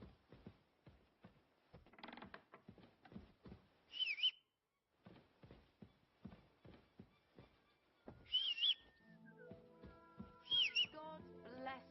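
Short melodic whistled phrases from a character in Kingdom Come Deliverance II, heard three times between rhythmic footsteps and creaks, ending with a longer tuneful whistle over a sustained tonal background.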